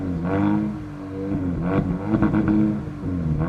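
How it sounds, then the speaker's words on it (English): 2023 GAC Empow GE exhaust with its valve opened, a loud deep revving burble that rises and falls in a couple of throttle blips, close by and without talk. "there's a button right here that opens a valve out back so that it changes the sound of the exhaust"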